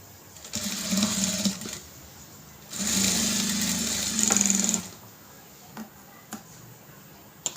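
A sewing machine stitches the side of a blouse lining in two steady whirring runs, the second louder, with short pauses and a few faint clicks afterward.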